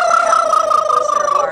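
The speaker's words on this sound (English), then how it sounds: "These are our heritage breed tom turkeys." Heritage breed tom turkeys about a year and a half old gobbling loudly at close range on a farm, one sustained warbling call lasting over a second.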